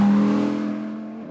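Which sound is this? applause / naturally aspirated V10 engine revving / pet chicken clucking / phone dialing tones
naturally aspirated V10 engine revving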